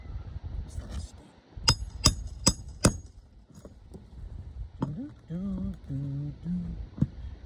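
Four sharp, evenly spaced hammer strikes drive a nail into a roof shingle during a shingle repair, loud and close, followed by a few lighter taps and then talk over a quieter background.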